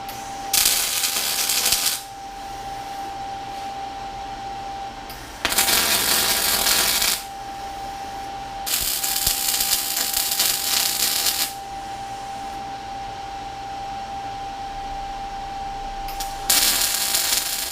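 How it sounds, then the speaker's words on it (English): A steel front bumper being welded, with four loud bursts of harsh crackling buzz separated by quieter pauses carrying a steady background hum. "Let's get welding."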